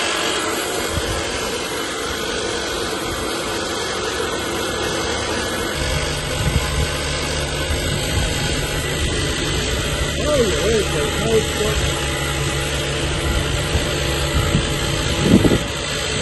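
Badlands 2000lb portable electric winch straining to pull a vehicle up a ramp, a steady mechanical drone running throughout at moderate volume, with people talking over it.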